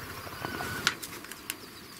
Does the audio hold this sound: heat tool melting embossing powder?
no